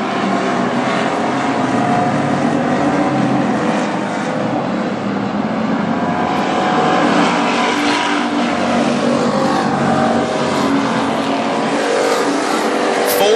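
WISSOTA street stock race cars roar around North Central Speedway, a continuous loud engine drone that swells and fades as the pack passes, with no talk.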